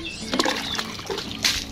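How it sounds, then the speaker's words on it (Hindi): Water is sprinkled onto the ground beside a chicken cage, giving soft, close sloshing and splattering bursts over a steady background hiss. "तो पानी का छिड़काव कर देंगे, ये देखें ठंडा ठंडा माहौल हो जाएगा थोड़ा सा।"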